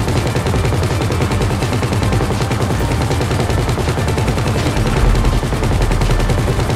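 Loud, relentless rapid-fire gunfire from a Valkyrie during the Humane Raid heist in GTA 5 Online, dense bursts rattling continuously throughout with no voices.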